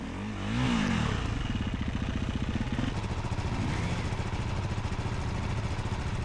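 Off-road motorcycle engine pushing through muddy thickets, a steady mid-pitched chugging drone after a brief rev at the start, running close and continuous with some clatter throughout.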